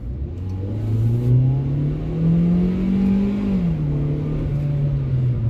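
A 2017 Hyundai Accent sport mini hatchback accelerating, heard from inside as a steady engine drone rising in pitch, then dropping briefly as a gear shifts before climbing on.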